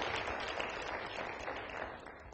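Audience applause for Canadian GALAXE and TWA members at an LGBT diversity conference in Rochester, a steady dense wash of clapping from a crowd that holds throughout without voices standing out.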